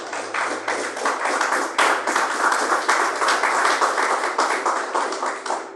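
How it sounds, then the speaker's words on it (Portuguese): A church congregation claps together in a fast, rhythmic unison beat, loud and continuous, with a low hum beneath the steady pulses of many hands. "Palmas para Jesus."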